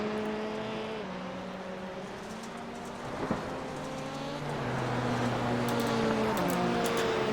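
Rallycross Lites race cars at Phoenix, engines droning steadily from a middle distance with shifting pitch as several cars run the track, and a brief knock partway through.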